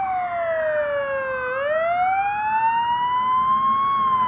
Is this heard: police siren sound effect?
yes